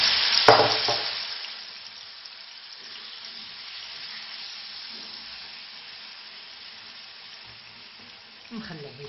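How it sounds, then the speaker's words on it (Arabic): Marinated shawarma meat drops into a hot pan with a loud burst of sizzling, then settles into a steady, broad frying hiss with faint stirring; a brief clatter near the end. "نخليه يتقلى مليح، نغطي عليه نخليه يتقلى حتى يطيب."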